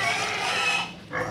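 Pigs grunt at feeding time in a steady, close, rough stream of noisy grunts and squeals that briefly dips before resuming.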